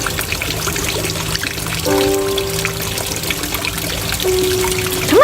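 Water trickles and splashes in an overgrown garden, a steady close pouring sound with faint tonal hums and a brief louder splash near the end.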